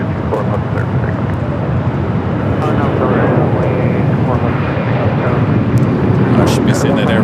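A jet takes off from runway 24 left at Los Angeles International Airport, its engines a loud, steady broadband roar with wind buffeting the microphone.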